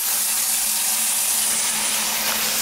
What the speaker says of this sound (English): I'm gonna get a pot started for the water.